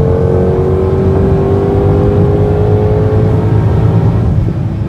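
A 2020 Shelby GT500 accelerates hard on a drive, its engine roaring loud and close with a steady rising pitch for about five seconds, no talk.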